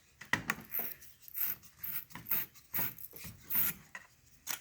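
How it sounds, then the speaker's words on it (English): A small battery terminal cleaner twisted around a car battery's top post, giving repeated scraping, ratchety rasps in a steady rhythm of about eight short strokes, close and fairly quiet, with no talking. "this is a little battery terminal cleaner, which will clean the top post. So we'll give those a couple of rounds"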